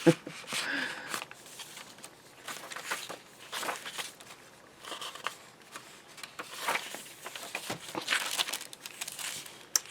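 Glassine envelope handled in a junk journal, crinkling in bursts of crisp rustles across the clip with brief pauses, fairly close and moderate in level, with a little speech in places.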